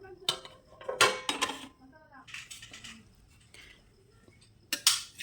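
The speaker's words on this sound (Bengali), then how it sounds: "এবার হচ্ছে বিরিয়ানির ঢাকনা খোলার পালা" A lid lifted off a home-cooked chicken biryani pot, a few sharp metallic clanks and scrapes with quiet gaps between, close and moderately faint, with a little background voice.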